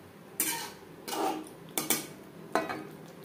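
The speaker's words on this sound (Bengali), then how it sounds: "গ্যাসের ফ্লেমটাকে মিডিয়ামে রেখে 3-4 মিনিট নাড়াচাড়া করে নেব।" Boiled potatoes are stirred in a pan on a medium gas flame, with four separate scraping, clattering strokes of utensil on pan, close by, and no voices.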